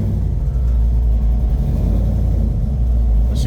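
A supercharged 496 big-block in a 1972 Chevelle idles with a deep, steady, loud rumble at close range, continuous throughout with no one speaking.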